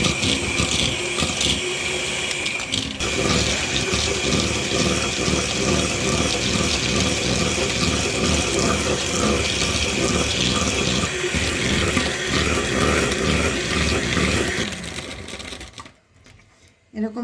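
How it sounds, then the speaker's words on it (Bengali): Pound cake batter being beaten in a bowl with continuous rhythmic mixing and clattering that runs steadily for about fifteen seconds, then stops abruptly near the end. "এখন আমি সুন্দর করে এটাকে আমি বিট করে নেব"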